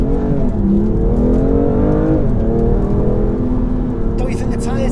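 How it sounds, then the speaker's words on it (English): Steady road and tyre roar from inside a BMW M2 Competition on Michelin Pilot Super Sport tyres, a constant droning rumble with engine tone shifting slightly under the cabin noise throughout. "Don't you think the tyres are dead noisy?"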